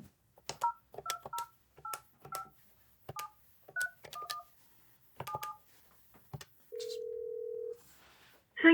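A Yealink T74W desk phone dials a test call: a quick, irregular run of DTMF keypad beeps, close and clean, then one steady ringback tone lasting about a second, with no talking.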